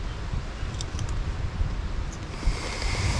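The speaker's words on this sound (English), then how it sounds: "we're battling the wind here" Strong wind blows on an island beach with coral reef waters, a steady loud roaring rumble buffeting the microphone, with faint surf and water mixed in and no talking.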